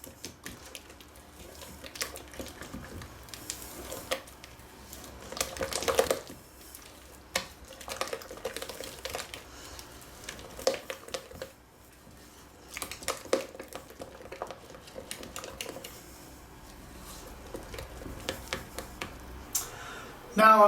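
An egg gets mixed into blueberry muffin batter by hand, with soft scraping and tapping of a utensil against the bowl in irregular bursts throughout, fairly close and moderate in level.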